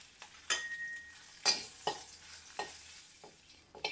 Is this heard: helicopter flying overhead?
no